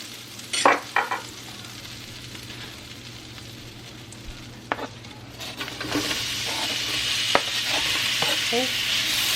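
Sliced onions sizzle and fry in a hot pan while being slowly caramelized, a steady crackling hiss with a few louder stirring scrapes and clinks rising over it near the end.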